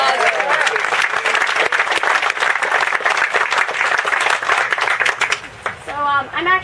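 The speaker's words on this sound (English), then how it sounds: "Big round of applause." A pageant audience breaks into a loud, sustained round of applause and cheering for Miss America's Outstanding Teen, dense clapping filling the room before it tapers off near the end.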